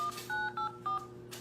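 Telephone keypad tones sound as a PIN is entered on an automated phone line: four short, clean electronic beeps in quick succession, quiet and isolated.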